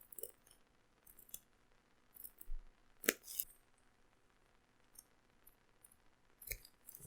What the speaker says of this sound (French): pour vraiment une découpe précise, sachant qu'il y a un tout petit angle là, j'aime vraiment bien reprendre mon ciseau de précision